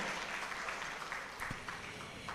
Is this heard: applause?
yes